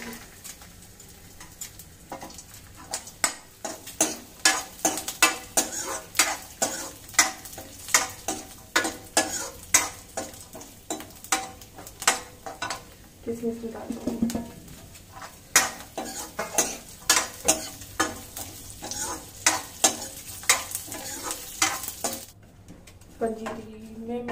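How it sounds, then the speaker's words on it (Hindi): A spoon steadily mixes ghee-fried makhana, cashews and almonds into semolina panjiri in a pan, making rapid, rhythmic scraping clatters against metal over a faint sizzle, briefly pausing partway before resuming. "पंजीरी में मैंने सारे ड्राई फ्रूट जो फ्राई किए थे घी में उसको इसमें मिक्स कर देती हूँ अच्छे से"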